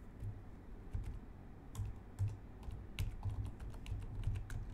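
Keys click on a computer keyboard in a quiet indoor setting, a run of soft, irregular taps spread across a few seconds with no voices.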